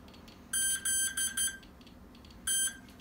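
Short high-pitched electronic beeps from an electronic speed controller during throttle calibration on a Mikado VBar Control helicopter setup sound in a quick cluster of four, then one more after a pause, fairly faint over a quiet background.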